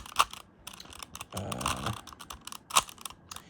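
Plastic generic magic cube being turned by hand, giving quick clicky snaps and a brief grinding rattle as layers rotate, close up with no talking.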